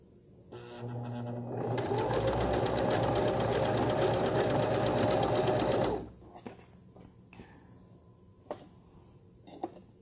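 A sewing machine stitches binding onto a tank top romper in one loud, rapid, steady run of about four seconds, then stops, followed by faint handling clicks and rustles.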